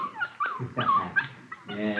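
A puppy whimpering and yipping in a radio drama, a few close high-pitched whines and cries in quick succession with no talk over them.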